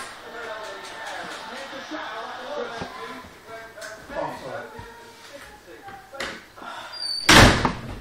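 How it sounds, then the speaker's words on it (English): A camera knocked over during a FIFA 13 gaming session, heard as a sudden loud crash and clatter near the end, after a stretch of background chatter and game sounds. "I am sorry, James knocked over the camera."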